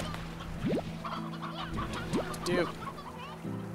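A rooster and hens in the video game Slime Rancher cluck and squawk in short rising bursts, several distinct calls over a low, steady flock murmur, close by with no speech.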